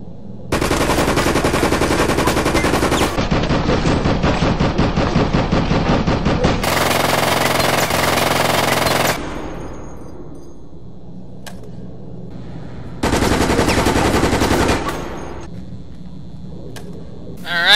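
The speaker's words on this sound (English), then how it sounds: "let's test the submachine gun out" Submachine gun firing in Resident Evil: Operation Raccoon City: loud, rapid sustained automatic bursts, several long strings of shots separated by short pauses, with softer game ambience between bursts.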